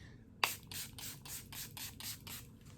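A click, then a quick series of about eight short hissing spray bursts in an even rhythm from a Milani Make It Last setting spray, close by, with no talking.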